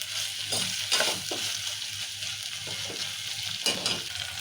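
Red lentil dalcha is stirred in a pan, with several close, scraping spoon strokes over a steady sizzle at a moderate level.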